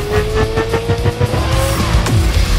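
A race car on nitrous oxide boost roars loudly up close with a rising engine whine, tire squeal and skidding layered over the throbbing motor, with no voices heard.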